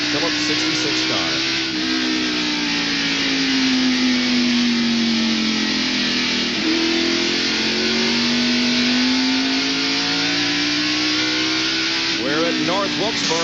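NASCAR Winston Cup stock cars at North Wilkesboro, North Carolina, in the 1991 Tyson/Holly Farms 400, engines screaming in a sustained rising and falling drone as cars pass, with a race commentator talking over the noise.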